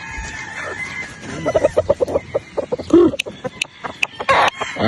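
Broodstag roosters cluck and crow up close, with bursts of choppy clucks and a crow rising over a quieter farmyard background.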